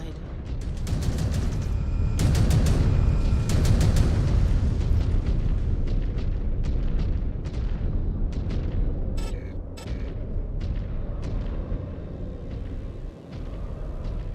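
Explosions from bombers batter a Mechwarrior battlefield in a long, loud string of heavy booms and sharp bursts, dense and rumbling at first and then spacing out into scattered blasts and rapid fire, with voices underneath.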